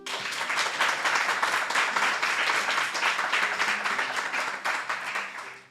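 An audience at a talk on Roman history gives a strong round of applause welcoming the speaker Néstor Marqués, a dense, even wash of clapping that holds steady and then tapers off at the end, with no voices over it.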